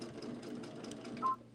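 A sewing machine stitches a quilt block in a steady, continuous mechanical run at close range, with a brief higher whine near the end.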